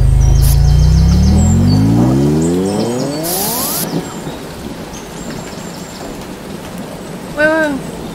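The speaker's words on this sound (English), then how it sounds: "Did I make it rain?" Rain falls steadily in a video game, a dense even hiss throughout, joined early by a descending electronic tone and a short chirp near the end.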